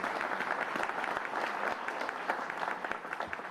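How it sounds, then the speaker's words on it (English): Audience applause at a school dedication ceremony for a new elementary school, a dense steady clapping from a crowd that lasts the whole moment. "let's give a round of applause to also all the support staff within the school"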